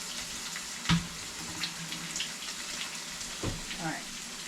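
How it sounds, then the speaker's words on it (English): Hands being washed under a running kitchen tap while cooking ground meat for stuffed bell peppers, a steady faint rush of water with a few soft splashes and knocks near the sink. "Let me wash my hands."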